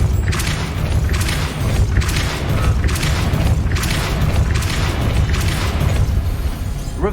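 The Repulsor spell cast in the video game Hogwarts Legacy produces a heavy, booming magical blast with rumbling low thuds and crashing impacts. The sound is loud and continuous over a few seconds.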